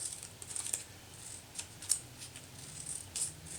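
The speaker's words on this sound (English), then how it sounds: "I'm using my larger pair of scissors because these are just long, straight cuts." Large scissors slice through cardstock in long, straight strokes, giving faint, crisp snipping clicks at irregular intervals over a quiet room hum, with no speech.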